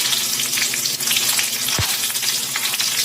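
Curry leaves, green chillies, cumin and asafoetida sizzle in hot oil for a dal tempering, a loud, steady crackling fry with a single low thump partway through.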